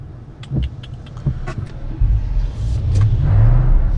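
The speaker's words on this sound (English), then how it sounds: "Car coming." Another car approaches a stop sign and passes on the road, heard from inside a vehicle as a low rumble that builds and swells toward the end, with a few faint clicks beforehand and no talking.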